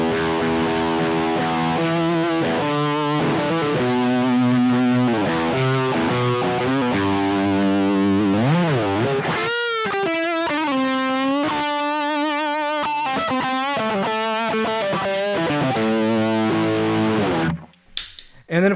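Electric guitar through a Nux XTC overdrive pedal modeled on the Bogner Ecstasy red channel, playing loud, sustained distorted chords and bending lead lines continuously, with a short break near the middle and a tail-off into quiet at the end.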